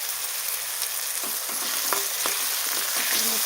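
Chopped tomatoes sauté in a pan with a little turmeric and salt, giving a steady close sizzle broken by scattered clicks and scrapes from a stirring spoon; no one speaks.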